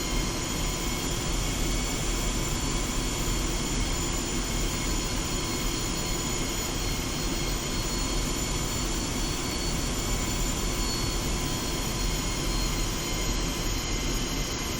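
A Su-25T jet taxiing toward the runway in the DCS World flight simulator, its engines holding a steady, unbroken roar with a constant whine for the full stretch, no talk over it.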